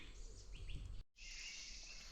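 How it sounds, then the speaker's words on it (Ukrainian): Faint birds chirping in the evening in a forest among steady insect-like hiss, soft calls scattered through the background, brief dropout midway. "Ввечері птахи балують своїм співом."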